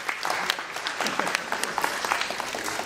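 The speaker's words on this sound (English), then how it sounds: "Thank you for clapping." A room of attendees at an indie game developer meetup applauds steadily for a few seconds, a moderate, even patter of many hands without talk over it.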